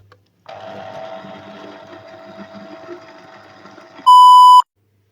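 A home electric juicer runs for fresh orange juice, giving a steady whirring motor hum for a few seconds before a loud electronic beep sounds near the end.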